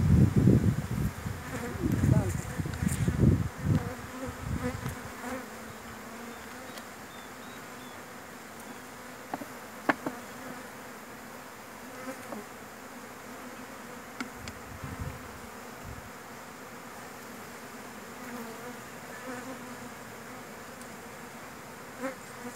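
Honeybees drone in a steady, continuous buzz while being moved from a Langstroth hive to a Perone hive, with loud handling knocks and rustles over the first few seconds before the buzzing settles into a quieter hum.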